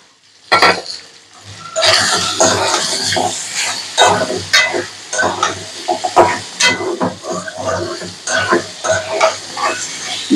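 Chicken frying in a pan with onion, capsicum and chili tossed in together, a loud sizzle with frequent scraping and clattering of a spatula against the pan, continuous and close.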